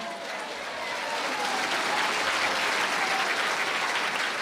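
A church congregation applauds together, a dense, sustained round of clapping that swells slightly and then holds steady and loud to the end.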